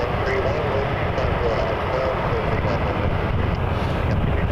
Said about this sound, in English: Porter 131 to Montreal, cleared for takeoff